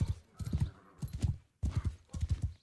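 A horse's hooves in Bannerlord clip-clop in quick, even groups of thudding steps at a trot, close and fairly loud, with a brief pause between strides and no voices over them.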